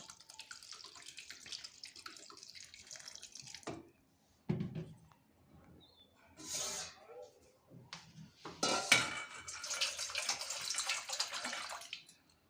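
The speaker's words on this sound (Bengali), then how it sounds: "এখন ঠান্ডা জলটা দিয়ে দিচ্ছি" Cold tap water runs and splashes over cooked, swollen soybean chunks in a pot, a steady rushing pour broken by brief pauses and clatters of the vessel, with a voice speaking between and under the flow.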